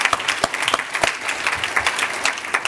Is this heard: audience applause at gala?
yes